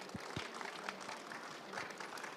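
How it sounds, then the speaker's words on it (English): Faint, diffuse applause from a conference audience for a panel of presenters, soft and distant clapping spread evenly across a couple of seconds. "I want a round of applause for these guys."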